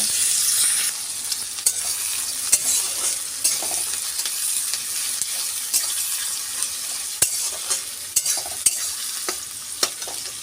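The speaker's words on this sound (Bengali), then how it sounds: "এর মধ্যে আগে থেকে কেটে রাখা পেঁয়াজটা দিয়ে হালকা লাল করে ভেজে নেব" Onions frying in oil with bay leaves, a steady close sizzle broken by repeated sharp scrapes and clicks of a spatula stirring the pan.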